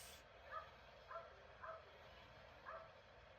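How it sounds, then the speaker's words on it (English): A dog barks four times in short, evenly spaced yips, faint and somewhat distant against a quiet indoor background. "My dog is barking."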